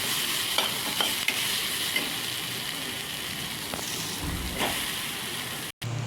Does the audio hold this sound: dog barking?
no